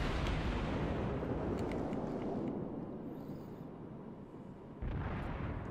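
A heavy battleship gun salvo in World of Warships from the Hindenburg, a loud rumbling blast that rolls on and slowly fades, then swells again near the end, with no voices.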